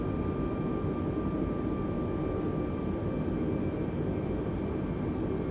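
An airliner descends on the glide slope in Microsoft Flight Simulator 2020, giving a constant broadband engine and airflow rumble with a faint steady whine on top, even and unbroken throughout.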